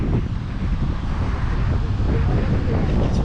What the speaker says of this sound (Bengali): আর খুব হাওয়া দিচ্ছে।